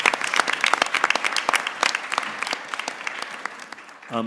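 Audience at a board of trustees meeting giving a sustained round of applause, dense hand clapping filling the room for several seconds before tapering off near the end.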